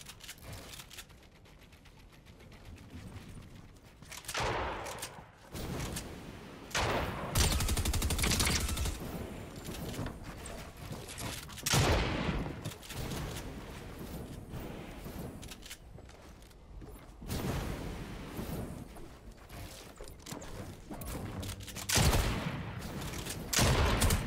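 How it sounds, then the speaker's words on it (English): Fortnite gunfire around the Collider area: scattered bursts of rapid shots, fairly faint and distant, rising and falling in several separate volleys. "Why the heck is he shooting me?"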